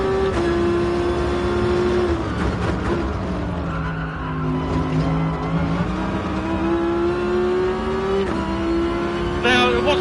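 A race car in Gran Turismo Sport, the DGT GR1T Tomahawk, drives through a corner, its engine droning loudly and steadily while its tires squeal and skid, with the pitch dipping and rising again.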